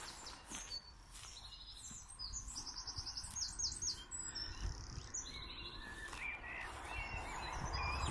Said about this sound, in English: Beautiful sound of bird song